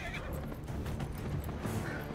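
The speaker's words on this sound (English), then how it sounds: "the horse will gallop in a pretty good speed" A horse in Dragon Age Inquisition neighs over quick hoof clip-clops, the whinny rising above a steady rhythmic gallop at moderate volume.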